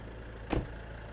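Low, hushed idle of a Mercedes-Benz E250 CDI diesel, a smooth steady rumble broken by one short knock in the middle, with nobody speaking.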